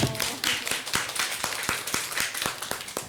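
An audience at a local creators' talk show in Yeosu claps in a loose, uneven rhythm of distinct sharp claps, fairly quiet and close, with no talk over it.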